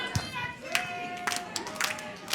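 Crowd at a live pro wrestling event cheering and clapping, a steady roar of voices with scattered sharp claps and shouts throughout.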